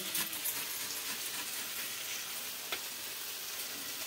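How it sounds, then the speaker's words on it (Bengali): Dried red chillies fry in hot oil with a continuous bright sizzle and a few small clinks of a utensil, close up, as a Bengali radish dish is cooked. "তেলের মধ্যে আমি শুকনো লঙ্কা দিয়ে দিয়েছি"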